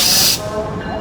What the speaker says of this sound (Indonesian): Oh, ini ada langsiran lok 206-1329, persiapan langsir rangkaian Dharma Wangsa.